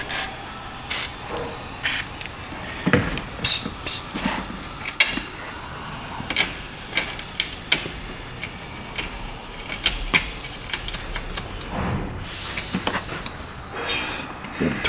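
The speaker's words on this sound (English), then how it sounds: "Torque wrench." Torque wrench tightening a mount onto a stud in a car: a rapid series of close, sharp ratcheting clicks and clacks in uneven bursts over steady background noise.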